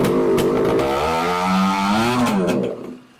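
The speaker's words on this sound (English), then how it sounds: "pull the clutch in and see if you can rev it" An 80cc motorized bicycle engine revs hard with its clutch pulled in, a loud, close buzzing drone that rises in pitch, holds, then drops away and cuts off near the end.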